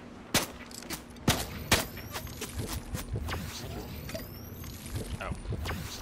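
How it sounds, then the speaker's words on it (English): Gunfire in the video game Fortnite, several sharp loud shots early then rapid scattered firing and in-game clatter, with a player talking over it. "I'm getting shot at."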